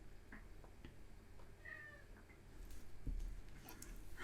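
A cat meows to be let inside, giving one short, faint meow midway through quiet indoor room noise, with a soft knock later. No one speaks.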